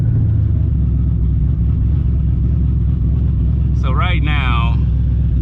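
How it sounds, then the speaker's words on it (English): Rumbling engine of a Mustang SN95 revving steadily while its 20-inch tires spin, with someone talking briefly over the constant drone near the end. "yeah, tires are spinning."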